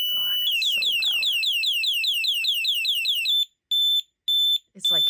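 A Pidzoom finger-controlled vehicle horn, FH60 or FH90 model, blares a loud warbling siren-like tone for about three seconds, then gives several short sharp beeps, with a voice briefly audible underneath at the start.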